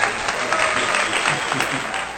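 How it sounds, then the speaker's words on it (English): Applause from a crowd at the opening of a comedy podcast episode, a dense, loud burst of clapping that stays steady throughout, close and full. "Clap it up. I hear people clap."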